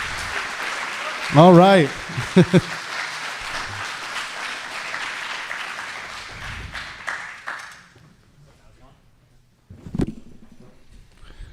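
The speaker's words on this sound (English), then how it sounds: "Put your hands together. Keep clapping. Keep clapping." Audience applause and clapping for a debater rise in a sustained crowd wash under a host's voice, with a short sung or exclaimed phrase on top, thinning out before a speaker briefly comments.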